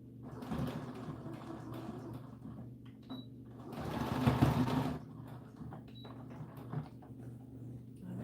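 A sewing machine stitches ribbon along the back seam of an American Girl doll dress, whirring steadily at a quiet, close level and swelling briefly midway.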